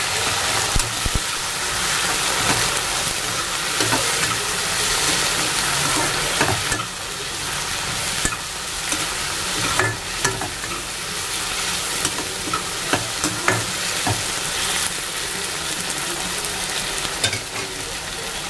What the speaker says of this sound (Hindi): तो प्याज तो देखिए ब्राउन हो चुका है, अब मैं इसमें डालूंगी टमाटर।